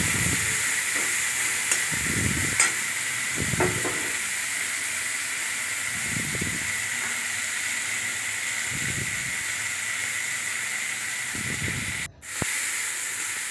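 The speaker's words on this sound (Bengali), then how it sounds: "পেঁয়াজটা ভালো করে ভেজে নিলাম" Chopped onion and garlic fry in a pan for a fish-head muri ghonto, giving a steady close sizzle and hiss with a few soft bursts of stirring along the way.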